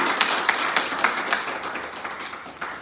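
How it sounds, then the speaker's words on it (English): Small online meeting audience applauding at a Toastmasters session, a thin scattering of separate claps, fairly faint and uneven. "let's have a big round of applause to our one and only CGD, Sonia Shetty"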